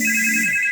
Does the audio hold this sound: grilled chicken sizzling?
no